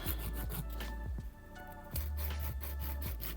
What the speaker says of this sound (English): Now you don't want to file too hard because you can peel the French design off.